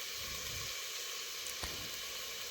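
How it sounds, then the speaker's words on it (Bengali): Vegetables frying with turmeric and spices in a pan, a steady soft sizzle running throughout with one brief louder crackle midway. "ভালোভাবে মশলার সাথে সবজিগুলো আমি ভেজে নিচ্ছি"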